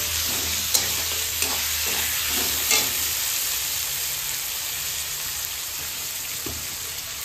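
Tomatoes and onions fry in a pan for a home-style mutton curry with potato, giving a loud, constant sizzle broken by a few scraping stirs near the start.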